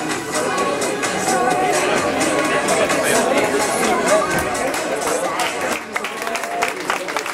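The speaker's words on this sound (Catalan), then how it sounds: "un aplaudiment per ell." Crowd at the Campi Qui Pugui 2008 footrace applauding a runner at the podium ceremony, steady sustained clapping mixed with chatter and babble throughout, fairly loud and close.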